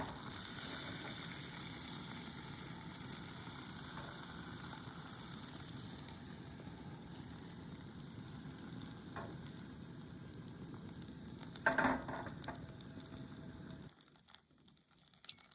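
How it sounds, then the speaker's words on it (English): Steady sizzling of eggs frying in an oiled pan, a continuous crackle with a few brief clatters, then it quiets near the end. "Add 1 by 2 eggs to the pan and spread thinly."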